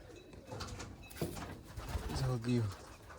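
Soft cooing of a wild pigeon at its nest rises near the end, low and close, over faint background noise and some indistinct voices.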